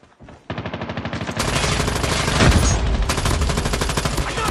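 Rapid automatic gunfire in Call of Duty Mobile during a capture-the-flag match, a loud, sustained burst of closely spaced shots after a brief quiet opening, intensifying midway and continuing to the end.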